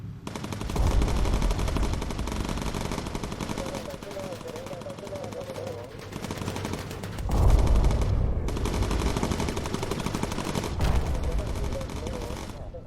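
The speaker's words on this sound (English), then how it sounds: "Blistering amount of gunfire coming out of this ship." Sustained rapid machine-gun fire from bomber combat in the video game Bomber Crew: USAAF, dense and continuous for the whole stretch, with a louder heavy burst midway and occasional voices under it.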